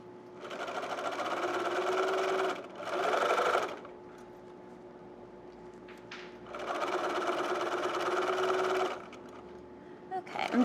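A sewing machine stitches a zipper onto a handbag clutch in two steady, close whirring runs separated by a short pause, with a soft faint hum and small handling noises between.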